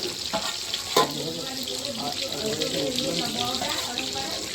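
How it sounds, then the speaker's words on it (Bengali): Beans frying in a home kitchen pan, a steady broadband sizzle and hiss running throughout with a soft clatter near the start, while voices talk over it. "এবার মা এদিকে বিনস ভাজা দিচ্ছে"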